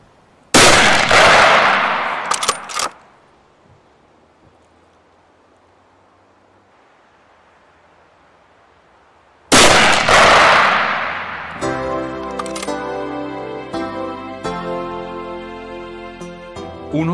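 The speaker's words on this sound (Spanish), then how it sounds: "Con un mínimo de 3 tiros, comprobaremos ahora si el ajuste ha surtido el efecto deseado." Blaser hunting rifle firing at a range: two sharp, loud cracks about nine seconds apart, each with a short decaying tail, with a tonal ringing sound following the second shot.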